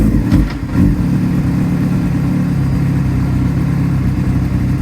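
A carbureted 2005 Honda CB500 Hornet motorcycle with about 22,000 miles runs steadily at close range after a brief blip at the start, its low engine hum continuing evenly with no talking.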